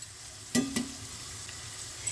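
Ivy gourd (kundru) chips fry in hot oil over a high flame, giving a soft, steady sizzle broken by two sharp, brief clatters early on.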